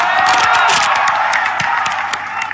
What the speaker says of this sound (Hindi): हाल ठहाकों और तालियों से गूंज उठा